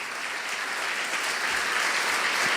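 Church congregation applauding during an evangelical sermon, a dense, steady wash of clapping from many hands that swells slightly toward the end, with no talk over it.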